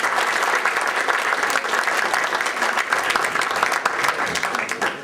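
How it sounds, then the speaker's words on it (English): An audience at a historical society hall of fame dinner claps for its members, steady, close and full throughout with no break. "Please give them a round of applause."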